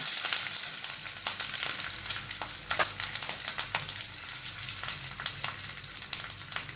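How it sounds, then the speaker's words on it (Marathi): Curry leaves and a quarter spoon of asafoetida sizzle in hot oil for a spicy peanut amti, producing a bright, continuous close-up crackle with frequent sharp pops throughout. "सात आठ कोडीपत्त्याचे पानं टाकते हिंग टाकते पाव चमचा"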